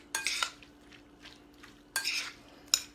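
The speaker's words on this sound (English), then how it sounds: "we're just going to mix all this together" A spoon stirs roasted rhubarb salsa in a bowl, giving a few separate bursts of scraping and clinking, close and fairly quiet, with faint pauses between strokes.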